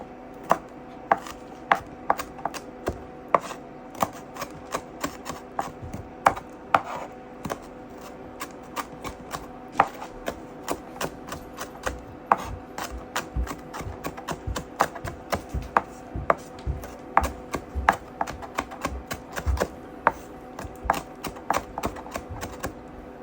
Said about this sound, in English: Cut your green hot pepper into tiny pieces.